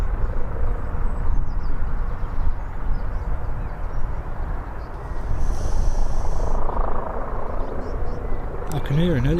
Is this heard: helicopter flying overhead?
yes